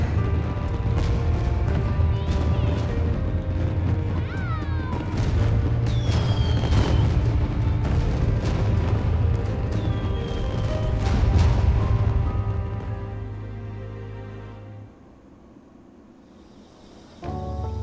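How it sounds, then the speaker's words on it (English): Fireworks in the video game Persona 5 Strikers: a long series of deep booming bursts and crackles layered over steady background music, loud and sustained, fading near the end before a final burst. "Man, I never saw fireworks from that."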